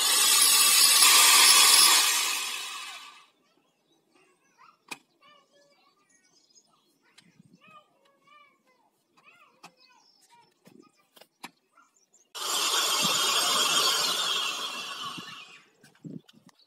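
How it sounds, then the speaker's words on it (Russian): A hammer drill whines loudly for about three seconds, falls quiet with small clicks and taps, then drills again for several more seconds. "Сейчас пойдем сверлить."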